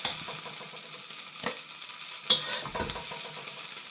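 Paratha frying in a pan, a continuous close hiss of sizzling oil with brief scraping stirs and a sharp clatter of a utensil partway through.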